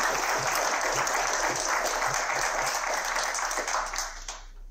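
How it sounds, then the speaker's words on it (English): Audience applause at an honor reception, a dense sustained clapping from a full room that holds steady and then starts to taper off at the end, with no speech over it. "A big round of applause."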